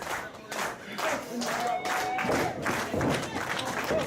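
At a wrestling event, a crowd claps and cheers steadily in support, a continuous rumble of applause mixed with voices and shouts throughout.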